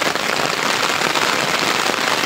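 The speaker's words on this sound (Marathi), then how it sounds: "तो बघा पाऊस" Heavy rain pours steadily on the road near Amboli, a dense, continuous hiss with no pauses and no talk over it.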